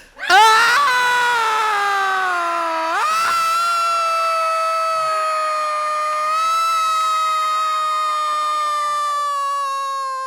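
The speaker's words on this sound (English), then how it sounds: "now, all together, we're going to scream like nobody ever screamed before." A group of people screaming together at a performance-art event, one long loud sustained chorus of voices that swells at the start and holds for about ten seconds before tapering.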